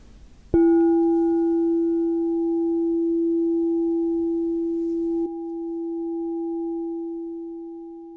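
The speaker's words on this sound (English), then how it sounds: "listen to the bowl again with its full drone and gentle chime" A 9-inch E+20 Citrine Alchemy crystal singing bowl sounds a steady, pure drone after a soft strike, with a gentle chime overtone and a slight shift partway through, loud and alone without talk.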